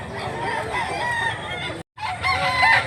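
A fighting rooster crows loudly and close by, a long harmonic call cut by a brief silence, then a second crow rising in strength.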